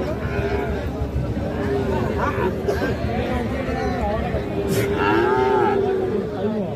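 A Sahiwal bull calf at a busy cattle market gives loud, drawn-out moos up close, over a constant hubbub of people talking.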